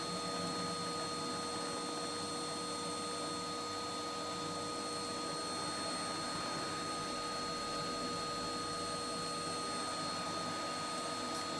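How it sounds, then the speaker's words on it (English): A vacuum cleaner hoovers up soot from the ledge of an open fireplace, a steady, continuous whine and rush held at a constant level throughout with no pauses. "And have a bit of a hoover up."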